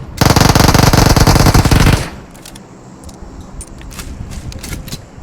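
Rapid automatic gunfire from PUBG Mobile rattles loud and close for about two seconds, then drops off, leaving a few faint scattered pops over quiet in-game ambience.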